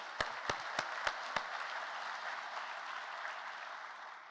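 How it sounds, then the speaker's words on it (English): An audience at a pharmacy school white coat ceremony applauds in a soft, fairly quiet wash of clapping, with a few sharp, loud close claps at the start. "Round of applause for them."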